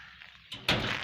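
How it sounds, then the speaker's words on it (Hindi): A house door is pushed shut with a single dull thud, preceded by faint handling sounds and followed by a soft, steady background wash, with no talking. "बंद कर लो दरवाज़ा"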